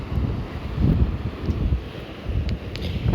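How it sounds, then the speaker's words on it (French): Steady wind buffeting outdoors at the seaside in winter with a low, rumbling roar that swells and eases, no voices. "il fait beau quand même, donc il y a beaucoup de vent"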